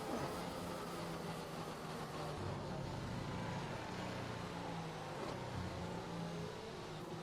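An F1 car in the racing game F1 2021, at the United States Grand Prix, accelerating steadily with a loud, continuous engine drone that rises through the gears and holds close for several seconds, with no talk over it.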